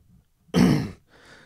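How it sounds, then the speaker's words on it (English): A man clears his throat once, a single loud, rough rasp lasting about half a second right at the mic, followed by a softer, breathy trailing grunt. "clearing my throat."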